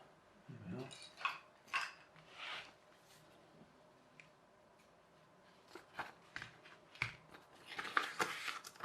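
Quiet, crisp snips of scissors cutting paper and papery rustles come in short bursts, with a pause in the middle and a busier stretch of cutting near the end.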